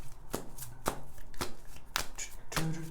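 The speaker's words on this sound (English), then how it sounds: "I'm going to shuffle these cards" Tarot cards being shuffled by hand, a run of crisp riffling bursts about every half second, close and clear with no talking over them.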